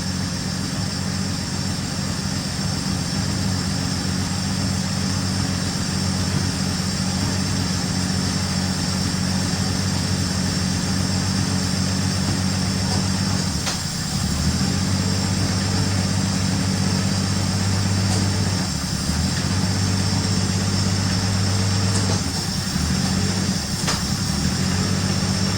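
A 1965 Chevrolet Bel Air engine runs steadily inside a shop, giving a continuous low rumble with a slight change in tone partway through as it is put into gear. No one speaks.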